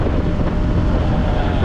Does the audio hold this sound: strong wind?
yes